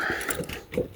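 Keys clicking and rattling in a lock on a cabin door after winter, a few short metallic scrapes and clicks close up, with no talking.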